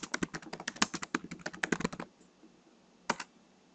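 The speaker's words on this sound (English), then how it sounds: "You type git fetch upstream," Quick keystrokes on a computer keyboard sound as a git command is typed, a fast run of crisp clicks for about two seconds, then a pause and one last firm keypress, close and clear with no talking.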